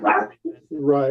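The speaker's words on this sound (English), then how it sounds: "Sorry about the dogs, y'all." Dogs bark close by in a few short, loud bursts, overlapping with someone talking.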